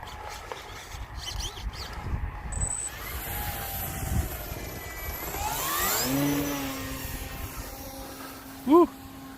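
A radio-controlled plane flying slowly at about a quarter throttle outdoors, its steady motor drone rising and falling as it passes, with wind noise and a brief sharp sound near the end.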